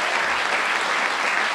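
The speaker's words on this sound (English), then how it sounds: "To all our volunteers, a great round of applause." Loud, dense applause from an audience saluting volunteers at a Democratic Party event, a continuous wash of many hands clapping close by with no pauses.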